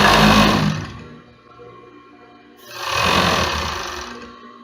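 Sewing machine running while stitching a baby doll garment, two loud bursts of motor whir separated by a quieter pause, close and alone with no talk.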